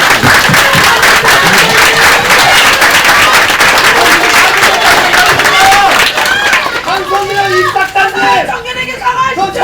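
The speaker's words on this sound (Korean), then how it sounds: "좀 박수 한번 부탁드리겠습니다" Crowd applause at a Saenuri Party youth and student event, with dense clapping and crowd noise filling the first six seconds before thinning into scattered claps under voices.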